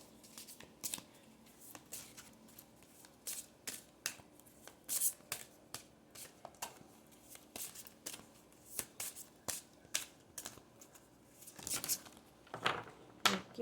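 Tarot cards are shuffled and drawn in short, irregular bursts of crisp riffling and slapping, close and fairly quiet, with brief pauses between each flurry and no talking.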